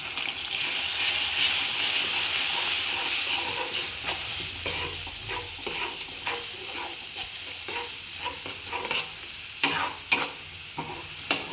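Ground coriander and garlic paste sautéed in the masala for a mutton curry, a steady sizzle with a run of scraping stirs and sharp spoon taps that grow more frequent toward the end.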